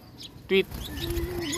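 A Lutino-mutation pet bird gives a short, sharp chirp close by, followed by a thin whistled tone, over faint room noise.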